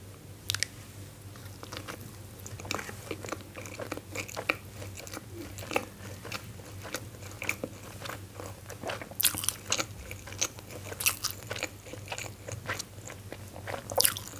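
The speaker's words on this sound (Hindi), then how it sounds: "So first bite is all for momos lover." Close-up biting and chewing of steamed momo dumplings at an Indian street-food eating challenge, with repeated soft crunchy bites and wet mastication sounds in an irregular rhythm, steady low hum underneath and no talk.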